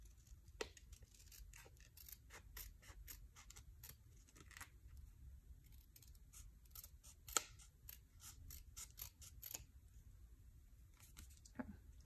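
Scissors snip repeatedly, trimming a storage sleeve for kpop photocards: a close, quiet series of sharp crisp cuts in an irregular rhythm over a faint background hiss.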